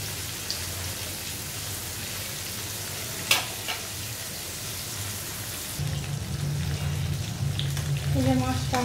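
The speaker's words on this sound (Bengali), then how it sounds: "এই যে মাছটা আমার বাজি হইল।" Fish frying in a pan gives a steady rain-like sizzle that swells louder in the second half, with a sharp clink partway through and faint sounds in the background but no clear talk.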